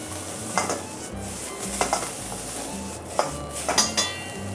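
Bones sizzle in a pot over a steady frying hiss, while a spatula stirs and scrapes against the metal in repeated clinking strokes about every second.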